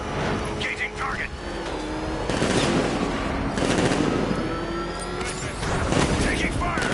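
Gunfire in the video game Batman Arkham Knight: repeated loud bursts of automatic fire over a roaring vehicle chase, with voices talking over the action.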